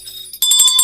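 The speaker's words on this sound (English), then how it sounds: "Thank you very much, Mr. Chamoyko, bringing that little bit of extra, the sleigh bells into it" Sleigh bells jingle loudly and close, a bright burst of rapid shaking that starts abruptly after a faint tonal lead-in and rings out briefly.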